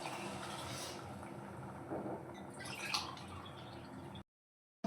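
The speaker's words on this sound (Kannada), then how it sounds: "1 ಲೋಟ ಅಕ್ಕಿಗೆ ನಾನೀಗ 2 ಲೋಟ ನೀರು ಹಾಕ್ತಾ ಇದ್ದೀನಿ" Two glasses of water poured over one glass of rice for khichdi, a soft, steady trickle and splash with a few gurgles, fairly quiet, ending abruptly.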